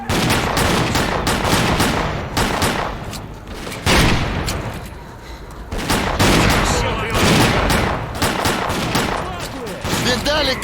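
Gunfire in the video game S.T.A.L.K.E.R. in the Great Swamps: loud, rapid bursts of automatic fire and scattered shots crackle up close in irregular clusters, with brief pauses between volleys.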